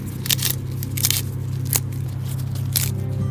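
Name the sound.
tearing kale leaves into rough pieces by hand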